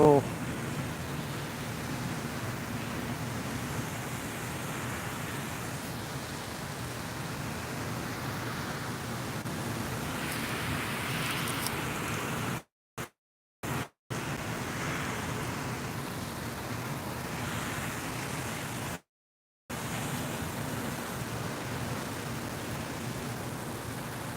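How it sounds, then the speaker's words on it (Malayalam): Steady, dense wash of heavy rain with gusting wind in Dubai, loud and continuous, briefly cutting out a few times. "ഇങ്ങനെ നല്ല മഴയും ഇടിയും മിന്നൊക്കെ വരുന്നുള്ള"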